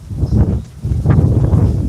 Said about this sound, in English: I don't know if the wind noise is bothering you